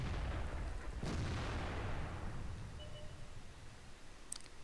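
A tank gun firing and its shell striking an E-75 in World of Tanks, a single loud boom at the start whose rumble decays slowly into quiet, with a faint metallic click near the end.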